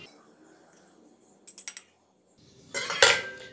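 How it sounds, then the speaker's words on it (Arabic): A utensil stirs dry cupcake ingredients of flour, salt, baking powder, baking soda and cocoa in a bowl, giving a quick run of small clinks followed by a louder, closer scraping and rattling burst near the end. "وهبدأ ان انا اقلب المكونات الجافة مع بعض"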